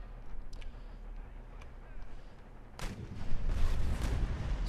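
Cannon and musket volleys in an Empire Total War battle, distant cracks first, then a louder cluster of booming shots building into a rumbling barrage under a speaking voice.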